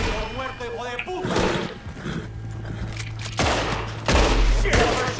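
Gunfire from Red Dead Redemption II: loud, close shots and a burst of fusillade crack across the game's background sound, with heavy impacts arriving near the end.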